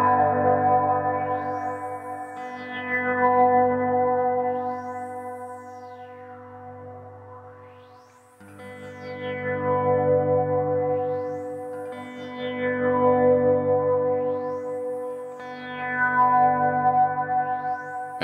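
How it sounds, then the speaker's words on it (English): Electric guitar through a tremolo whose speed keeps changing, filtered by an OBNE Float pedal, giving a sustained chord that pulses and sweeps up and down in slow repeating waves, loud and alone. "you can hear the changing of the speed of the tremolo, but then because the float is cutting out those frequencies, you get that really cool overlay"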